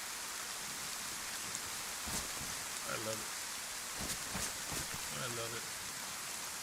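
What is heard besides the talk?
rain falling in the video game DayZ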